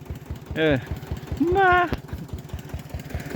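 A tractor engine on a dirt road beside a canal chugs in a steady, rapid knocking rhythm close by, while people speak briefly over it.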